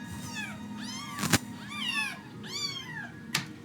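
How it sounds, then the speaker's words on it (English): Several small kittens mewing in high, wavering cries, one after another, with a couple of sharp knocks in between; fairly close and clear. "So another one I took is some baby kittens."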